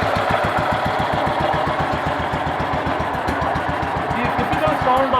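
A BSA M20 single-cylinder motorcycle engine idles steadily with a rapid, even thumping pulse and a breathy intake rush from the air filter, loud and close throughout.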